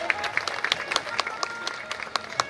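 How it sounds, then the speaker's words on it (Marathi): Audience applause at a welcome ceremony, a brief burst of many hands clapping in a fast, dense patter, moderately loud and close. "एका जोरदार टाळ्या आपल्याही येणार आहेत"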